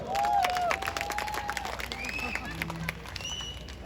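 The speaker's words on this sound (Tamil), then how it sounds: "எங்கே மண்டபம் நிறைந்த கரகோஷம்" A crowd applauds in a large, full hall, clapping steadily under a voice speaking over a microphone.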